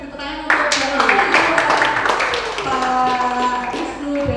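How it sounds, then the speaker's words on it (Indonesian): An audience at a community gathering applauds speakers in a burst of steady, crowded clapping that starts half a second in and carries on to the end, with a voice talking over it. "Yuk kita beri tepuk tangan untuk"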